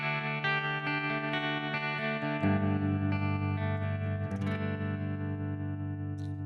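Electric guitar played through a cranked twin amp model with tremolo turned on rings out in sustained chords with a steady pulsing shimmer, loud and clean with no talking.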